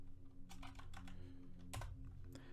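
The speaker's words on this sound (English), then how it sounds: "So we can actually type in tweaks." Quiet typing on a computer keyboard, a short irregular run of soft key clicks in bursts over a low steady hum.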